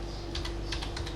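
Someone taps quickly on a computer keyboard, a short burst of light clicks that is close and quiet.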